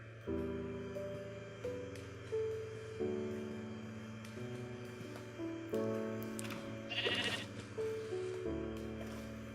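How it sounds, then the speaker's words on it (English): Sheep in the Minecraft video game bleat repeatedly in short wavering calls, several over about ten seconds, fairly close and clear above a steady background music bed with no talk. "Cows and sheep on the loose over here."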